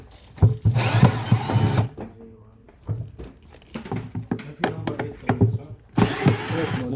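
A power drill runs in two loud, whirring bursts near the start and end. Between them come quieter clicks, knocks and metallic handling noises.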